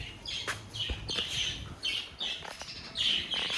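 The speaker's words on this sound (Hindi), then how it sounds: "अब तोतों को लगी हुई है भूख, वो चैं चैं कर रहे हैं" Hungry pet budgies chirping: shrill, overlapping tweets and squeaks repeat steadily over a soft background, close and moderately loud.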